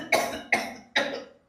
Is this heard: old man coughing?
yes